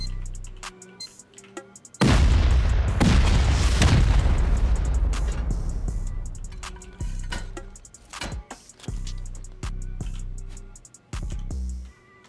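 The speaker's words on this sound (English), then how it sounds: "I'm gonna send a rocket after this in case he is online in there." In the video game Rust, a rocket fired at a barricaded clan compound bursts into a sudden loud boom with a long rumbling, crackling tail, followed by fainter thuds and clanks.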